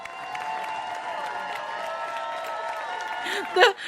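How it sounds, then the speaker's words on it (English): Cheering people in the Slay the Princess video game, a continuous crowd murmur and applause layered under sustained musical tones, ending in a short louder burst. "The people cheering in the background."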